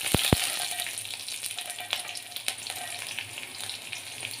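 Garlic fries in hot oil with a dense, steady sizzle close by, its crackle punctuated by a couple of sharp clinks of a utensil against the pan, with no talking.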